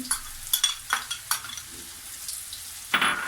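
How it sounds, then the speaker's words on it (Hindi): Garlic frying in hot oil in a pan, with short bursts of sizzling and stirring scrapes repeating every half second or so, then a louder hiss near the end. "2 चम्मच लहसुन ऐड करें और इसे थोड़ा सा भूनेंगे।"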